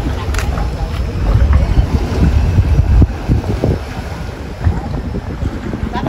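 A fishing boat sunk after a collision is towed in across open water toward a slipway, with steady engine and water rumble under heavy wind buffeting the microphone, continuous throughout.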